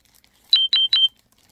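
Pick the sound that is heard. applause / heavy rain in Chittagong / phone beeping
phone beeping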